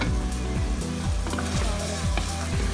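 Ghee sizzles loudly in a karahi of beef, a dense, continuous frying hiss with steady crackle and repeated scraping strokes of stirring running through it.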